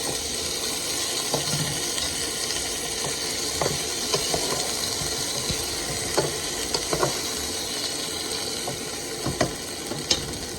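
Oxtail sizzles in a pot with cooked onions, a continuous frying hiss broken by scattered clinks and scrapes of stirring, close and moderately loud.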